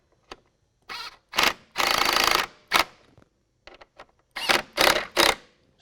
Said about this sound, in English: You can go ahead and start tightening down your 2 factory 10mm bolts at the top here.